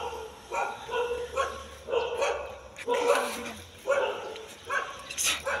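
A dog barks several times in short bursts at a moderate distance while people talk over it.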